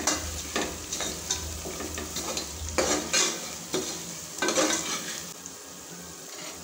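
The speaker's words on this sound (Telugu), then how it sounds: "పసుపు కూడా చాలా బాగా మిక్స్ చేసుకోవాలి." Turmeric and ginger frying in oil are stirred in a pan, with a continuous sizzle and scraping strokes of a spoon rising and falling, close and moderately quiet, a low hum dropping away partway.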